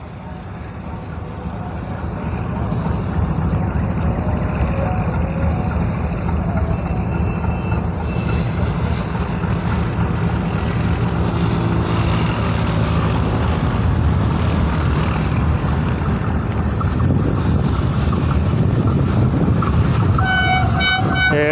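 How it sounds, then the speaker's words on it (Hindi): The Millat Express diesel train thunders through Risalewala railway station at good speed, a loud, continuous rumble and rattle of wagons building up and sustained close by, with a horn tone threaded faintly through the din. "काफ़ी अच्छी स्पीड से आ रही है 17 मिल्लत एक्सप्रेस HGMU 30 रसाले वाला से थ्रू पास करने लगी है"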